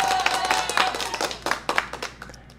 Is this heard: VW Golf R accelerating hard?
no